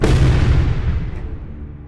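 A massive explosion sound effect: a loud, deep boom right at the start that rolls off and decays over about two seconds, heard alone without speech.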